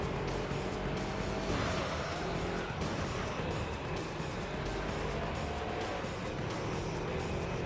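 Racing cars roar around the track in Gran Turismo 3, producing a dense, continuous engine and tire noise at steady loudness with no pauses and no speech.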